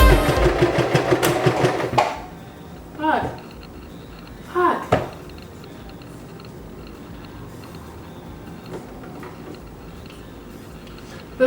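Home sewing machine running a medium straight stitch along a garment's side seam, a fast rapid-fire clatter for about two seconds that then stops, followed by quieter handling sounds and a few short bursts of talk.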